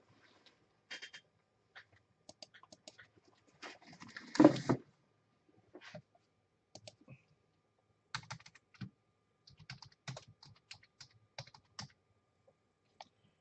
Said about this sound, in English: I don't know why I'm typing it.